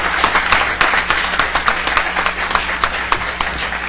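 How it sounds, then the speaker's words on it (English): A room applauds Lake Forest and Saddleback Little League players at a city council meeting, with a scattered, moderately sized round of clapping and distinct individual claps popping out through four seconds. "So we can give them a round of applause."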